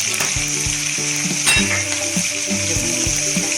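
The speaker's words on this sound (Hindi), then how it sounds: "लहसुन और अदरक का पेस्ट 1 टेबल स्पून दोनों कच्चे मैंने इसके अंदर डाल दिए।" Tomatoes and raw ginger-garlic paste fry in hot ghee for a kaleji masala, giving a loud, steady sizzle close up with repeated clinks and scrapes of a spoon stirring against the pan.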